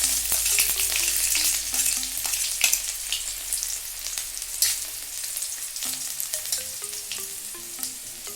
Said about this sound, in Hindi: लहसुन भुनने देते हैं।